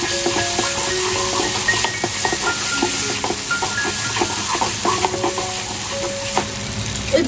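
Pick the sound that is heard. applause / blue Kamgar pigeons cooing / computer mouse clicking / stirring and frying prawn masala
stirring and frying prawn masala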